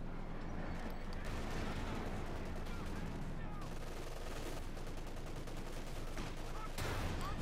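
Dense, continuous gunfire and explosive bursts strike a Panzer IV tank during a snowy Company of Heroes 2 skirmish, with Sappers, minesweepers and a Crocodile in the fight; loud, sustained battle noise with a voice talking over it.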